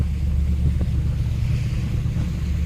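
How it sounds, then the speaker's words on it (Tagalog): Steady wind and water rumble aboard a boat crossing the sea near an island in Masbate, a low, continuous roar with faint wave wash and no voices. "nasa barko kasi ako ngayon"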